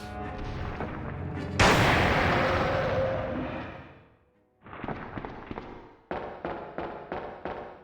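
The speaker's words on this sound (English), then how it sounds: "Come here, let me shoot you." Gunshots in the Resident Evil 2 video game: a sharp, loud blast with a long decaying roar, a brief lull, then a string of quicker, evenly spaced shots, with no talk.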